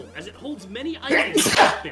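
A single loud, close sneeze bursts out right after a character's line of speech in the game Mario & Luigi: Superstar Saga.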